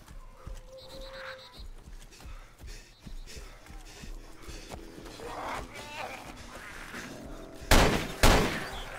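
Gunshots in the DayZ video game crack sporadically amid movement and background noise, ending with two loud, close shots in quick succession, while someone talks.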